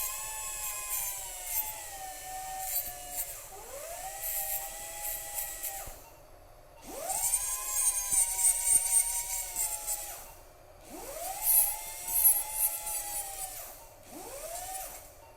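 A dental drill grinds down the biting surface of a dental implant crown in four or five bursts, each one a high whine that rises and then holds steady, with short pauses between them and no talk.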